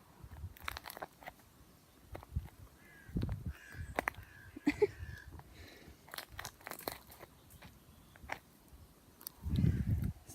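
Crows caw in scattered bursts over crushed feed on a road beside tyre tracks, their calls mixing with crunching and pecking sounds at moderate distance, with a heavier low rumble near the end.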